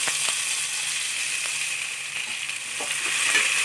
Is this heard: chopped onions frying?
yes